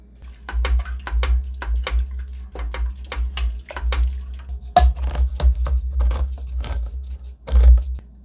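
Liquid from canned broth pours into a pot in a string of quick wet splashes and drips, close and fairly loud, with no talking.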